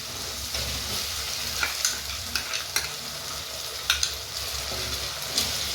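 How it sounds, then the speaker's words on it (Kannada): Chilli sauce frying in hot oil for green chilli chicken, with a continuous close sizzle and sharp, irregular scrapes and clacks of a spoon stirring the pan. "ಸೊ ಇದು ಕೂಡ ಚೆನ್ನಾಗಿ ಸುತ್ತವತ್ತು ಎಣ್ಣೆಲಿ ಫ್ರೈ ಆಗಬೇಕು."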